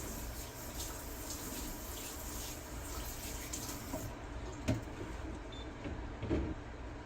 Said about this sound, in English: Rinse this off and put it in my sink to clean.